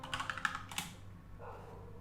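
Quick keystrokes on a computer keyboard while editing Victoria 2 mod files, a short burst of several close, crisp taps in the first second, then quiet room tone.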